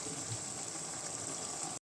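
Tamarind water poured into a pan for a taro root kuzhambu, a steady broadband gush of liquid running close and alone, cutting off abruptly at the end.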